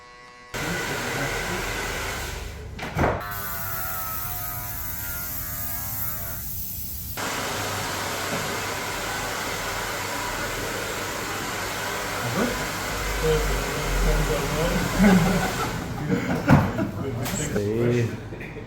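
Electric hair clippers buzz steadily during a buzz cut fade, a close continuous hum with brief shifts and clicks as the blade is flicked out, while someone talks over it.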